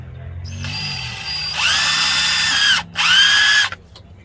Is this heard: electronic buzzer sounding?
no